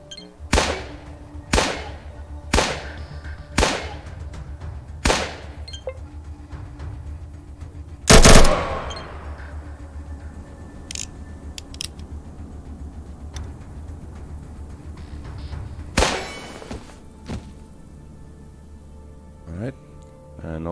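A Fidel pistol in the ATOM RPG video game fires armour-piercing ammo at a steel target: six sharp shots in a steady rhythm, then a louder burst and a few sparse later shots.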